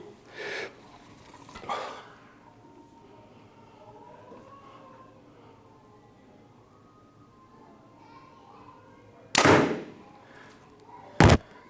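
A Mathews V3X compound bow is shot during chronograph speed testing, producing short, sharp release thumps. Two strong shots come late, after fainter bursts at the start, with muffled talk in the background.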